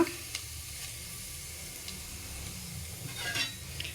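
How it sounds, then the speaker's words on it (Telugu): Mustard seeds and cumin sizzle in hot oil in a pan, giving a faint, steady hiss with a few soft pops and light stirring, with no one speaking. "దాంట్లో కొద్దిగా ఆయిల్ వేసుకొని అది వేడెక్కాక అందులో ఇప్పుడు మనము ఆవాలు వేసుకుందాము"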